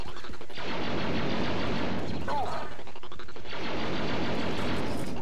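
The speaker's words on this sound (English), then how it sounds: "Droid shooting a clone." Blaster fire in the Star Wars Battlefront 2 video game, with dense, loud overlapping volleys of shots in two long bursts separated by a brief lull, and voices mixed in.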